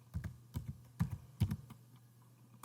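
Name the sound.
typing quantities on a computer keyboard and pressing Enter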